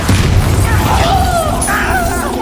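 A Bombarda blasting spell explodes in Hogwarts Legacy with a loud, sustained rumbling boom and crackling debris, dense and close throughout, with faint sweeping magical tones layered on top.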